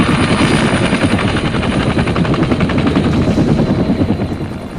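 A military helicopter of the Vietnam War era sounds loud and close. Its rotor blades beat in a fast, continuous chop with a heavy pulsing throb that never lets up.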